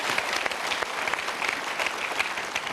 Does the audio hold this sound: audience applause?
yes